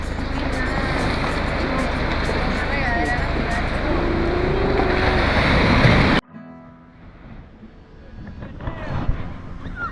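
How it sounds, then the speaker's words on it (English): Surf washing onto a black-sand beach in Madeira, a steady loud roar with wind buffeting the microphone for about six seconds, then dropping to a quieter wash with faint voices nearby. "we are at Seychelles Beach"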